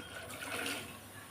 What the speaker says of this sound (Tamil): இப்போ இதில் ஒரு அரை கப் மட்டும் தண்ணி சேர்த்து நல்லா கொதிக்க வச்சிடலாம்